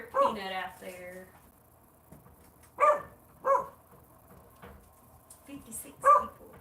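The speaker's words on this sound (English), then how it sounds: "that dog Peanut is a firecracker" A dog barks outdoors a few times, distant and intermittent, while people talk nearby in a workshop where a whitetail deer is being mounted.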